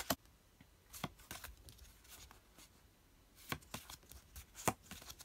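Yo-kai Watch bonus trading cards flipped through one after another, soft scattered papery flicks and slides, close and quiet with pauses between them.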